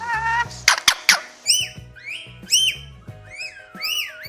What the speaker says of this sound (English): Scarlet macaw.